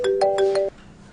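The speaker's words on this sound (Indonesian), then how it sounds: "Ma, bentar ya, aku ada telepon." A phone ringtone plays a quick melodic run of bright electronic tones in a few rapid pulses, then cuts off abruptly to quiet room tone.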